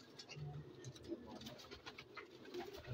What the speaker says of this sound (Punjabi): ਇਹ ਜਮਾਂਦਰੂ ਕੈਦੀ ਕਬੂਤਰ ਨੇ ਇਕਬਾਲ ਭਾਈ